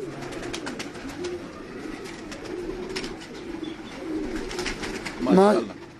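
A pigeon on a rooftop gives a short warbling coo near the end, close by, over steady outdoor background noise and scattered clicks.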